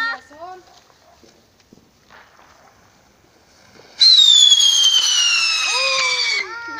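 Firework rockets go off beside a bonfire. A sudden shrill whistling streak, loud and close, slides down in pitch and lingers for a few seconds after scattered faint clicks and brief voices.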